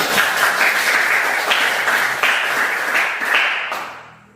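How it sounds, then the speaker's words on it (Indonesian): A crowd applauding for about four seconds, dense clapping with a few louder bursts, fading out at the end. "tepuk tangan untuk kami ya"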